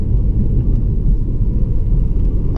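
A 2016 HSV GTS with a manual transmission runs under sustained full throttle, giving a deep, steady engine rumble heard from inside the car, loud and continuous with no talking.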